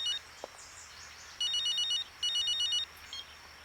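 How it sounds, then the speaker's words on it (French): A telephone rings in electronic double bursts, two clear trill groups with a faint partial ring at the start and end, moderately close in a quiet room. "Fausto, c'est ton téléphone!"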